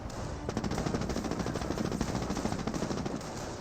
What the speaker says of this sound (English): We're seeing a bit of fire from the Stewart now.